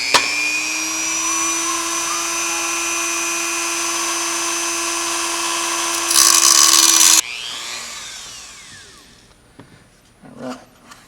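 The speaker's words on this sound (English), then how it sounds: "grab your rotary tool and let's get cutting" A rotary tool cuts into a plastic toy gun handle with a loud, steady high-pitched whine that grows harsher as the bit bites, then spins down abruptly, followed by faint handling clatter.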